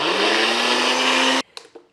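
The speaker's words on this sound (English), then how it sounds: "So I'm just gonna blend this until smooth." A kitchen blender whirs loudly as it purées a cottage cheese and lemon mixture until smooth, a steady high motor roar that cuts off abruptly, followed by a few faint clatters.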